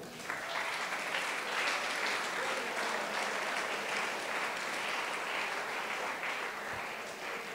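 A church congregation applauds steadily, a dense wash of clapping that holds for several seconds before easing slightly.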